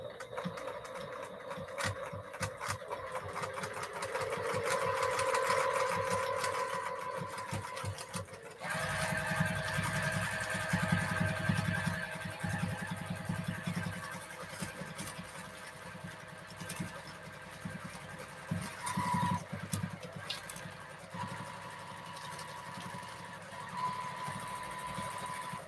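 A domestic sewing machine quilting without computerized stitching runs in a steady, fast mechanical whir, broken by brief pauses and restarts, close and moderately loud.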